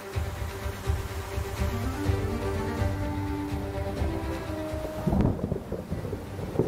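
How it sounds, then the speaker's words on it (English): Thunder rolls as a long, steady low rumble, with rain and wind hissing over it throughout, and a brief louder crackle near the end. "Well, that's some thunder."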